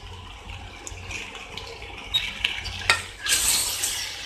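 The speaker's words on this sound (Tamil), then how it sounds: "இந்த சிக்கனையும் இதோட சேர்த்து நல்லா பரட்டி விடுங்க" Chicken with ground tomato paste is stir-fried in a pan for Kolhapuri chicken, with a soft sizzle under repeated scraping and clinking of a spoon against the metal, ending in a louder burst of sizzling.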